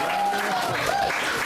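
Applause from an audience at a Q&A session, a steady wash of clapping heard close, with a voice talking over it.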